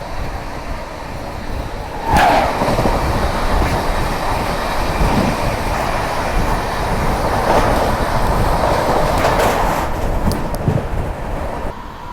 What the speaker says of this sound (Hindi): तो कानपुर से पहले हावड़ा राजधानी अभी क्रॉस होने वाली है, तो उसकी क्रॉसिंग देख लेते हैं।